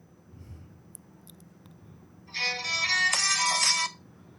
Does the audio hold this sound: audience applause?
no